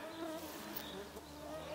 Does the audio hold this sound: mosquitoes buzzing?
yes